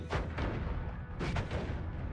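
An explosive saw blade projectile going off in the video game Noita, a few dull, muffled booms in quick succession over a continuous low rumble.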